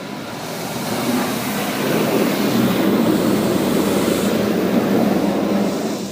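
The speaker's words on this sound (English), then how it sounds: "Now we get it for high power rinse." A PDQ LaserWash 4000 car wash runs its high power rinse, a loud, broad rushing roar of water spray that swells after a second and holds steady.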